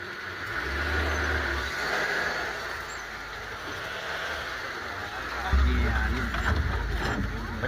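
A car reversing, with a low engine rumble throughout that swells louder near the end, under raised voices of people calling out.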